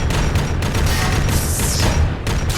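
Loud, dense gunfire fills a closed chamber in an action audio drama, an unbroken fusillade of rapid blasts and booms that echo, with no talk over it.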